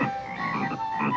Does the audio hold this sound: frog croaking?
yes